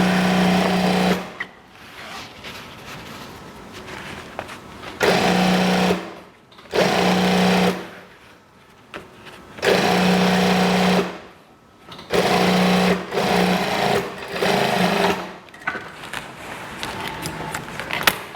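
Electric sewing machine stitching the seams of elementary-school trousers, running in repeated bursts of a few seconds with short pauses between, close and loud with a steady whirring hum.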